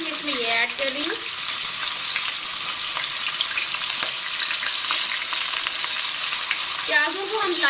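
Two medium onions, roughly chopped, hit hot cooking oil for a chicken biryani, raising a loud, steady, hissing sizzle that runs unbroken throughout, with faint wavering tonal sounds near the start and end.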